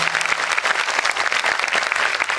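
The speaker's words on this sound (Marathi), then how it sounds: "सगळ्यांनी जरा जोरदार टाळ्या साहेबांसाठी" Loud, dense applause from an audience at a teachers' award ceremony, honouring the assistant education officer, sustained steadily throughout with no talk over it.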